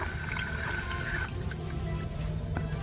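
Water runs steadily from a household tap with a worn faucet during a filter test, a continuous close rushing and splashing with no voices.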